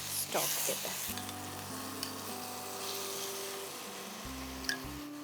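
Mutton masala for radish mutton (muli gosht) sizzles steadily in the pan while being stirred, with small splashes of mutton stock added; close, continuous frying hiss with scraping stir sounds and no talk.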